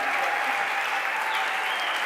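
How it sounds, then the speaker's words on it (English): An audience at a festival closing event claps in sustained, dense applause, a continuous wash of many hands from a sizable crowd, fairly even in loudness with no voices standing out. "A big applause for her and for her great photos."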